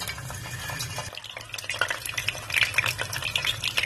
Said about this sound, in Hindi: हम अपने अंडे डालकर इसमें एक एक करके फ्राई कर लेंगे।